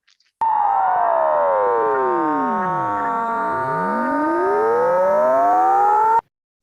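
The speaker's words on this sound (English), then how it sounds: "We can play back the sound heard as the rotation ramps up" Steady pure tone played through a rotating absorber as its spin ramps up, splitting into many sweeping Doppler-shifted tones that rise and fall in crossing arcs, loud and continuous for about six seconds with no talk.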